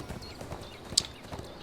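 A horse mount's hooves clip-clop in a steady, fairly quick rhythm in the ArcheAge video game, soft and close with no one speaking.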